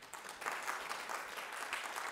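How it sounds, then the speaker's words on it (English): Applause from an audience at a talk, steady and moderately distant, a soft wash of clapping lasting a couple of seconds. "You can applaud."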